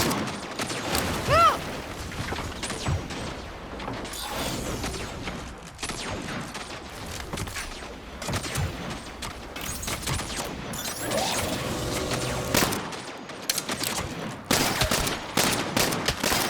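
A newly acquired gun fires in the Saints Row video game, loud and close, with rapid bursts and sustained volleys of shots rattling almost without pause, briefly thinning out before the firing resumes.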